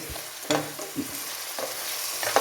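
Onions sautéed with salted pork in a pan sizzle steadily close by, broken by several sharp scrapes and clacks of a spatula turning the mix, with no voices.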